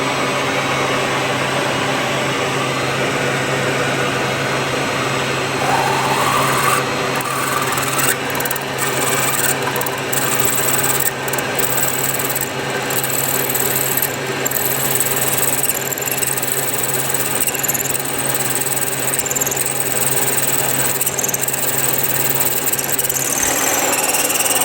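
A drill bores a 23 mm deep recess into metal on a machine fitted with a DRO, giving a loud, continuous grinding rasp with a steady motor hum throughout.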